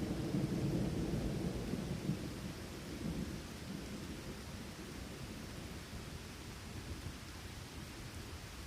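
Heavy rain falling steadily with a low rumble of thunder rolling at the start and fading, leaving a dense hiss of rainfall alone.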